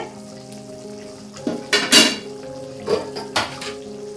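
Fish going into a pot of boiling red fish curry: a low bubbling simmer is broken by a few clanks and splashes as pieces drop in, then by metal clinks against the pot.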